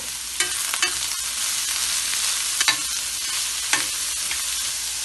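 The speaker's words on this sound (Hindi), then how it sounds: "गाजर थोड़ी सी फ्राई करेंगे" Carrots fry in hot oil with a loud, continuous sizzle up close, punctuated by several scraping stirs of a spoon against the pan.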